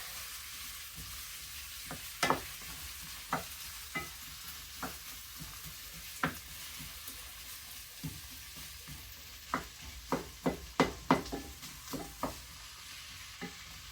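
Onion slices for ribeye fajitas fry quietly in a pan, a soft, steady sizzle broken by scattered clicks and spatula taps that cluster toward the end.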